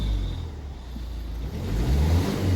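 A Ford Focus engine while driving, heard from close by as a steady mid-pitched hum that swells slightly near the end as the car accelerates. The car has a misfire fault.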